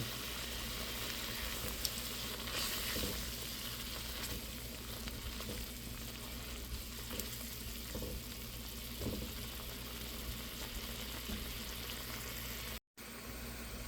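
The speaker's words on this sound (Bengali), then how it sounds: "চিংড়ি মাছটা দিয়ে দিয়েছি এখন একসাথে কষিয়ে নেব" Prawns and leafy greens are sautéed together in a pan, a steady close sizzle and hiss with occasional stirring scrapes, continuing evenly apart from a brief dropout near the end.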